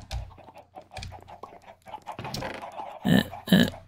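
Chicken clucking in a Minecraft modpack game, a series of short clucks building to two louder squawks near the end, with no voices over them.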